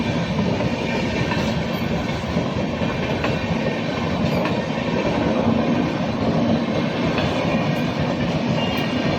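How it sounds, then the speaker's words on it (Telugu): Railway train rolling through a level crossing with the gate lowered, in Gadwal at early morning; steady, loud rumble of wagons and rhythmic clickety-clack of wheels continues throughout, close by, with no talk. "ట్రైన్ పోతుంది, ఇక్కడ గేట్ పడింది."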